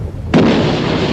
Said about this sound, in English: The coastal defences open fire,